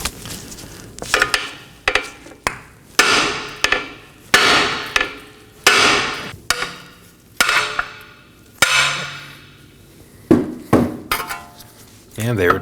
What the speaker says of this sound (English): strike the control arm with a hammer